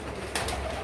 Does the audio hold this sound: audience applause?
no